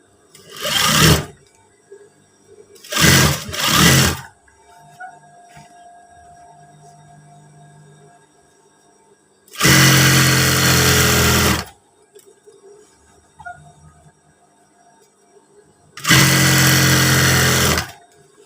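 A sewing machine stitches a seam on a pair of PDL-style trousers, running in four bursts: two short ones close together, then two longer steady whirring runs separated by quiet pauses.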